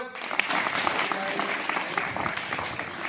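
A hall of schoolgirls at a girls' inter college in Meerut applauds, a dense and steady wash of many hands clapping together, continuous and fairly close with a few louder claps standing out, and no talking over it.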